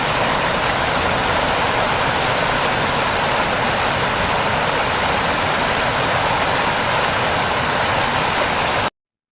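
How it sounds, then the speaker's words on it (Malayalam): Jog Falls in Shimoga, Karnataka, roars with a dense, constant rush of falling water, loud and unbroken across the whole stretch before cutting off suddenly at the end. "കർണാടകയിലെ ഷിമോഗയിലുള്ള ജോഗ് വെള്ളച്ചാട്ടത്തിന്റെ ദൃശ്യങ്ങളാണ് ഇത്."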